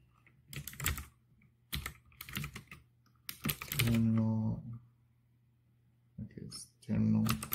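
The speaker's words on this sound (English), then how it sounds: "so you can see what I'm typing" Bursts of keyboard typing in short clusters, with a voice speaking over parts of it and quiet gaps between.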